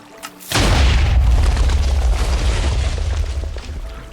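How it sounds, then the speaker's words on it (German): A TNT cannon explosion in the Minecraft video game, a sudden loud deep boom after a short pause that rolls into a long, heavy rumbling decay. "Bro, hast du eine TNT-Kanone gebaut, die von dir zu mir schießt?"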